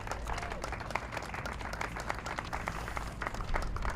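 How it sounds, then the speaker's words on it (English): A gathered crowd claps steadily at a community art wall announcement, a soft, even patter of many hands heard from some distance and sustained without a break. "So give them a round of applause"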